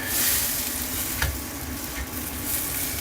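Mushrooms sauté in a pot on the stove for pasta, giving a steady, close sizzle with an occasional stirring scrape, loud and continuous with no talking.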